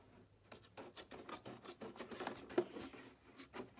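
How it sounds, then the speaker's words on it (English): Scissors cut around a washed plastic milk jug in quiet, steady, rhythmic snips and crunches of the plastic, heard close and alone. "And then I can go in with my scissors and cut all the way around."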